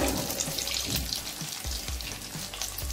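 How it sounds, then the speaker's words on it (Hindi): Beef stick boti sizzling steadily in hot oil, a continuous bright frying hiss with soft bubbling pops throughout, close and fairly quiet, no voices. "अब हमने इसको गरम तेल में डाल देना है, अब ये फ्राई हो जाएगी मज़े से"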